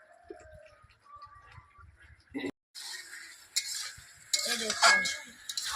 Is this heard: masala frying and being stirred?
yes